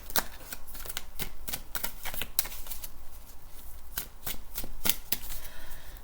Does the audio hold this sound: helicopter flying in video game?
no